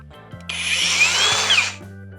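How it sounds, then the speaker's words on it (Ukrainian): Procraft AG125A cordless angle grinder spins up and runs steadily at high speed for under two seconds, a loud whining motor with a faint pitch sweep, then winds down, with no talking. "І ось так він працює."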